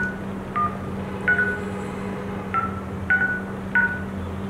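A CVK 1000 phone's keypad beeps five times as a password is entered, short electronic tones spaced unevenly, close and clear over a steady low hum.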